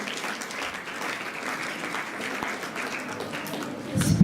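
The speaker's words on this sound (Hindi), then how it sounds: "जोरदार तालियां बजाइए।" Audience applause at an educational talk on Rajyoga meditation, a steady dense patter of many hands clapping for a few seconds, moderately loud and sustained, rising slightly toward the end.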